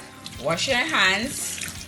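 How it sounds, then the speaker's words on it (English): Tap water runs over salted fish being rinsed in a kitchen sink, a soft steady splash heard under someone talking. "we're going to rinse it now underneath the running water to wash off the salt"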